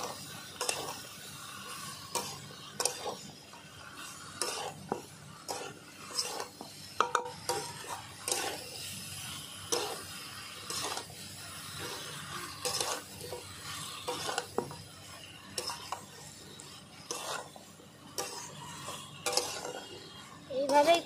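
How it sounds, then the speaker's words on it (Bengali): Jackfruit sautéed with spices in a pan for a prawn curry, repeated scraping and clinking spatula strokes against the pan over a low sizzle, close and uneven in rhythm, no talking. "এইভাবেই কষাতে হবে ভালো করে, 3 থেকে 4 মিনিট এইভাবেই আস্তে আস্তে কষিয়ে নেব।"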